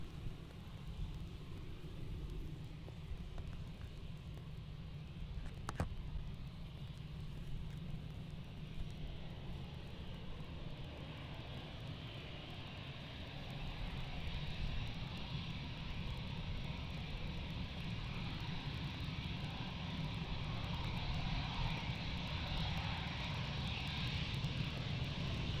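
A Turkish Airlines Airbus A330 taking off at Amsterdam gives a faint, distant jet rumble that swells gradually over nearly half a minute.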